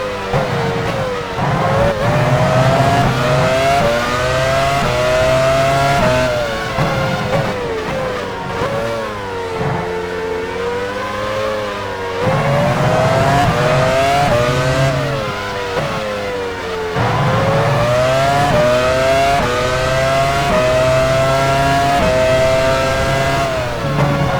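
Formula 1 race car engines in F1 Challenge 99-02 at Spa-Francorchamps scream continuously at high revs, pitch rising through gears and dipping on shifts, loud and close for the whole stretch with no voices.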